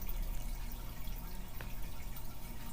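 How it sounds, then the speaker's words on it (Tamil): A small amount of water sloshed and poured while rinsing out a cooking pot used for potato fry gravy, a steady low liquid wash and trickle heard close up with no talking. "கொஞ்சமாக தண்ணி அலசி இந்த பாத்திரத்தை"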